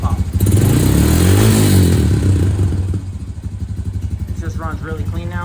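Honda TRX250x ATV engine with its pair valve deleted, running loudly up close with a rough revving burst, then settling into a rapid, even idle putter.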